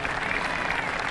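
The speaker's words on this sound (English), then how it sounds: "As the crowd acknowledges Morgan Pressel coming up here." Steady applause from a golf crowd greeting Morgan Pressel on the 18th green at the 2007 final round, a dense even clapping wash with no gaps.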